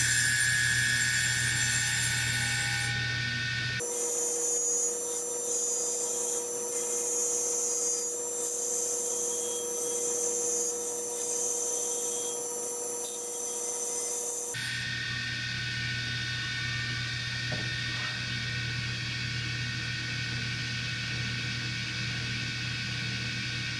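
A homemade planing tool roughly flattening wood for a DIY double-neck guitar bass, with a loud continuous motor whine and hum that cuts to a lower drone midway and then returns to the full whine.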